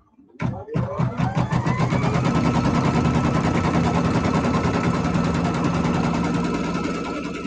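An embroidery sewing machine stitches out a quilt block in the hoop, starting with a sharp clunk and settling into a loud, close, rapid mechanical rattle that runs steadily without pause, no talking.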